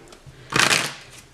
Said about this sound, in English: Let's just do a quick shuffle.